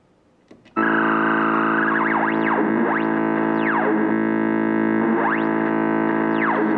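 A synthesizer oscillator drones loud and bright with a sine-wave vibrato sweeping its pitch up and down in slow repeating glides, starting after a brief quiet moment.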